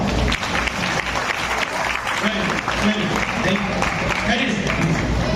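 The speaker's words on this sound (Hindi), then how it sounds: "एक बार इनके लिए ताली बजाओ।" Loud, dense audience clapping at a seminar in Nagpur, welcoming first-time attendees; continuous applause with some voices mixed in among the crowd.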